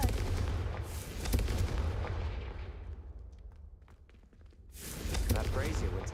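Booming fire-explosion spell cast in a Harry Potter video game, a heavy rumbling blast that decays over a few seconds before another loud burst, with speech heard around it.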